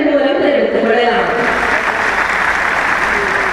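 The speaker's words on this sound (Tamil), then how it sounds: "மனமார்ந்த நன்றியினை நாம் கைத்தட்டல்கள் மூலம் தெரிவித்துக் கொள்ளலாம்." Audience applause at a Tamil government welfare-aid event with Chief Minister Stalin in Udumalaipettai, Tiruppur district: a crowd's sustained, full clapping, with a speaker's voice still audible over it at the start before the clapping takes over.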